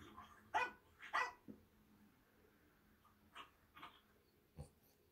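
Another dog barks somewhere nearby, heard by a French bulldog; faint, short barks come in a couple of quick pairs, then a few scattered single yaps, with soft breathing between.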